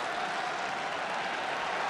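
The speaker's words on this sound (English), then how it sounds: "Crowd roaring them on here." Rugby crowd at an Investec Champions Cup match roaring and applauding without a break, a dense, loud wash of cheering and clapping that fills the space evenly throughout.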